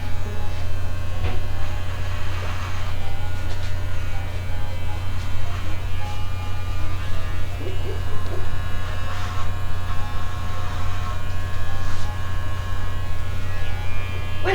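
An electric razor trims a man's beard and sideburns, buzzing close and loud in a continuous steady hum throughout, with faint background sounds.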